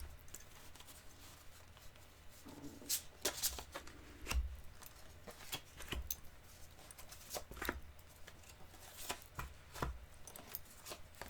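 Tarot cards are shuffled and handled in a quiet room, giving soft irregular riffles and sharp taps spread through the stretch, faint and close.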